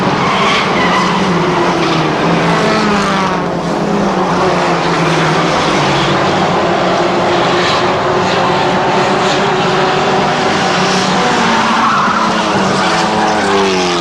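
Stock mini race cars run hard around an oval track, producing a continuous, loud engine roar with tires scrubbing and skidding through the turns and no voices over it.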